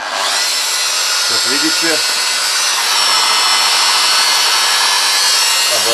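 A Macallister 710W power tool runs steadily at its lowest speed setting, a continuous close whir that fills the whole stretch, with someone speaking briefly over it.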